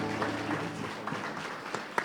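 Steady applause from a church congregation fills a large room, an even wash of clapping at moderate volume with a few sharper claps standing out near the end.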